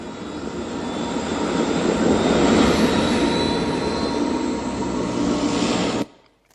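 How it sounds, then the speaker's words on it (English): A military drone engine drones loud and steady, swelling slightly then holding before cutting off abruptly near the end, with no voices. "The drone was being controlled by an Air Force pilot in a bunker thousands of miles away in America."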